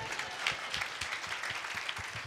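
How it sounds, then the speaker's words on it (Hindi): A church congregation applauds together, a dense, even wash of clapping with a steady beat running throughout, moderately loud and without speech. "ताली ताली ताली।"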